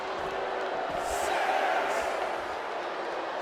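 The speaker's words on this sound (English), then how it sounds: "He's getting fired up now, really feeding off this crowd." Wrestling arena crowd in the video game WWE 2K24, a steady dense roar of many voices with faint cheers and whoops rising briefly, continuous throughout.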